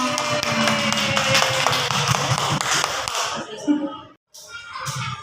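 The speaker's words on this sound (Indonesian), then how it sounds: "Tepukan buat kita semuanya" A class of children claps together in a classroom, loud and rhythmic at first with sharp repeated hand claps, then thinning out and fading, with a few young voices speaking near the end.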